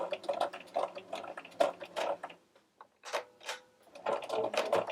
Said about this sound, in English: I'm just going to come in here and I'm going to stitch, back stitch right to the edge